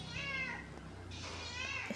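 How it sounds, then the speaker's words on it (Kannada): A house cat meows while waiting for fish scraps at home, its cries close and clear and broken by short pauses, with people talking nearby. "ಬೆಕ್ಕು."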